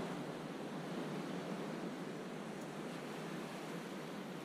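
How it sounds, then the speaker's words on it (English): Ocean waves ambience from a music plugin, a dense, even wash of surf noise that holds steady throughout at moderate level, with no voices. "ocean is quite nice."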